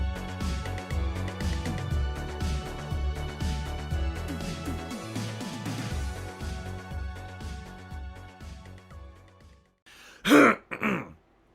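Two quick throat clearings from someone bothered by pollen allergies come close and loud near the end, after a long stretch of busy background sound.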